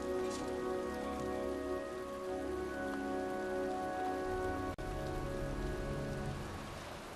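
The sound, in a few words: rain in a video game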